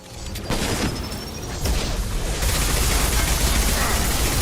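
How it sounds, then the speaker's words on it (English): A weapon reload in the video game Mass Effect 2 clicks and clanks mechanically amid dense, loud combat noise and booming gunfire, with no voices. "Sometimes reloading is the best thing that can happen."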